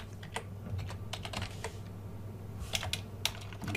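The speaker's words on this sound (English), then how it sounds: "here we can type text." Keys clatter on a computer keyboard as text is typed in a tutorial, quick irregular taps running steadily over a low background hum, close and moderately loud.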